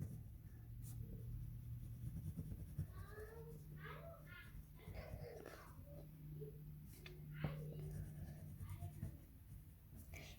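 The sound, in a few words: coloring on paper with crayon or colored pencil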